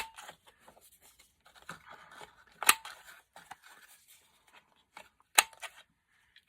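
Scissors snip around the corners of a paper journaling card, a scatter of quiet cuts with two sharp, crisp snips standing out, close and alone without any talk.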